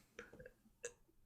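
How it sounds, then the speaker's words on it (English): A couple of short, faint burps come from a person during a casual conversation recording, with small throaty sounds between them. "I got a burp."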